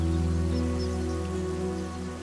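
Steady rain falls across a wild leopard habitat, a dense, continuous hiss of drops on surfaces that stays loud and even throughout, with a low tonal hum underneath and no voices.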